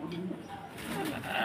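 An English Trumpeter pigeon coos close by in a farm setting, a soft low rolling call with a few brief murmurs and noises around it.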